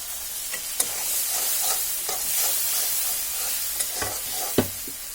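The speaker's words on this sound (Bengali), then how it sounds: "মশলাটাকে ভালোভাবে কষিয়ে নিব।" A spice paste of ground ginger and chopped tomatoes is fried and stirred in a pan, giving a steady close sizzle with occasional scraping taps of the spoon, and no voices.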